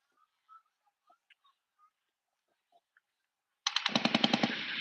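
An M240 machine gun fires on a range at a Best Ranger competition: after near silence with a few faint clicks, a loud, sharp burst of rapid shots erupts for the final second.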